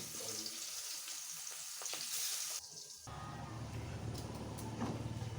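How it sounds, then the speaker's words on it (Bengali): Potato pieces dropped one by one into hot oil and deep-fried until reddish for a Bengali dim motor dhoka snack. A faint, continuous bubbling sizzle runs throughout, shifting in texture partway through. "একটা একটা করে ছেড়ে দিচ্ছি, একটু লাল করে ভেজে নেব।"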